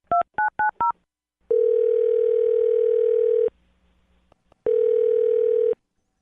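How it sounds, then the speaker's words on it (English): A telephone plays four quick keypad dialing beeps, then two long steady ringing tones separated by a short pause, all clear and alone. "I'm going to dial her phone number right now."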